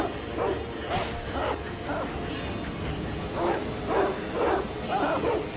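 A dog in the video game Sekiro barks and yips in a string of short rhythmic bursts, loud and close, mixed with game effects and a voice talking.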